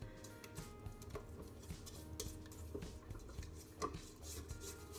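Muffin batter for streusel coffee cake being mixed in a stand mixer with a paddle attachment, a quiet, continuous churning and scraping with irregular soft knocks against the bowl, heard alone without talk.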